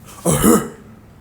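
One brief, husky cough or throat-clear, close and fairly loud, standing alone in near silence.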